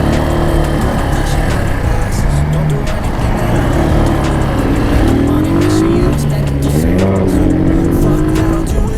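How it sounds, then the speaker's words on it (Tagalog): Steady road traffic on the Plaridel bypass road in Bulacan: a continuous loud roar of passing cars and motorcycles with engines rising in pitch as they accelerate, filling the whole stretch. "Traffic."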